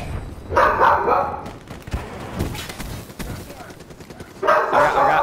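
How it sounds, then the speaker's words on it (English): Dog barking in Call of Duty Black Ops 3 gameplay, a few loud yappy barks mixed with gunfire and game noise, bursts at the start and end of the stretch. "Quit barking, doggo."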